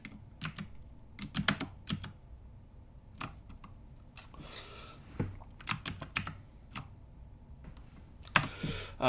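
Irregular bursts of keystrokes and clicks on a Mac computer keyboard, typing text for the Live Speech accessibility feature, close and clear with pauses between bursts and no speech.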